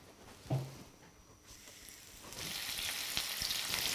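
Hot oil sizzles and crackles as Mediterranean sardines are laid in the pan, rising from a brief soft clatter into a steady, bright frying hiss.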